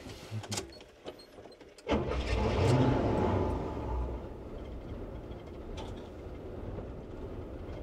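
A GMC Royale motorhome's engine cranks and catches, then settles into a steady low rumbling run, heard close and fairly loud after a few clicks and rustles.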